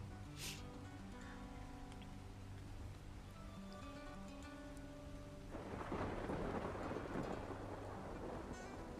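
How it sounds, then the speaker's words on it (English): Rain and thunder in a fantasy role-playing video game: a low rumble with faint background music, then steady rainfall swells in partway through, fairly quiet overall. "It's raining."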